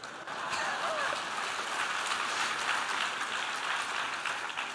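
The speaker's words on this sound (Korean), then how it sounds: "박수 안 쳐도 됩니다." Audience applause at a church elders' retreat: steady, dense clapping that swells in at once and holds evenly for several seconds, filling the hall.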